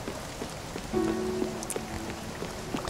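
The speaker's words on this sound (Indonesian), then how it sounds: "tapi di sini hujan ya" Rain falling in the video game Spiritfarer, a steady soft patter across the whole stretch with faint musical tones and small game effects over it, no voices.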